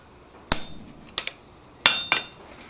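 A hammer strikes a chisel punch on hot steel at an anvil, cutting the eye of a church key bottle opener. Four sharp metallic whacks come in two pairs, close and ringing, with no talk.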